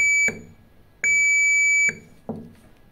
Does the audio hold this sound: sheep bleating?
no